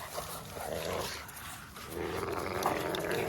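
A four-month-old XL puppy growls and grumbles in a low, continuous rumble over a few seconds while playing, close by, with scuffling playful noises mixed in.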